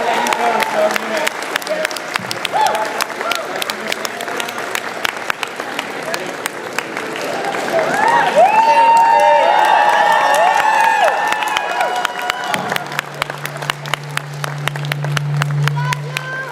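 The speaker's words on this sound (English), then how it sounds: "You guys have to keep applauding while she's on stage." A convention crowd at a Comic Con Q&A in Brussels applauds and cheers Nichelle Nichols, with sustained dense clapping and swelling whoops, and a voice speaking over the applause.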